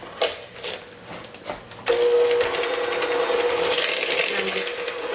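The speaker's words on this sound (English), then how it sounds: "I'm just using my regular handheld mixer" A regular handheld electric mixer creams white granulated sugar and brown sugar in a bowl. A few clicks and knocks come first, then the motor starts and whirs steadily and closely to the end.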